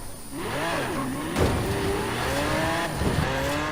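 Tuned V12 car in Forza Horizon 4 accelerating through the gears, a loud, close engine note climbing in pitch, dipping briefly at each of two shifts, then rising again.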